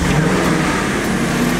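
A wrecked Audi RS5 engine turns over and settles into a steady idle, a loud continuous mechanical drone with a low hum close by and nobody talking.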